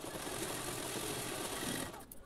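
A sewing machine stitches a folded strip of cloth for a fabric bow, a rapid, steady mechanical chatter at close range that stops abruptly near the end.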